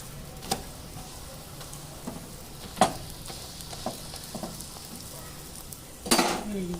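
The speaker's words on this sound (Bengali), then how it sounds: "ততক্ষণে আরেকটা পরোটা ভেজে নিচ্ছি, তারপর ওটাকে পিটিয়ে নেব।" A petai paratha fries in a pan with a low steady sizzle, punctuated by sharp clinks and scrapes of a metal utensil, the loudest clatter near the end.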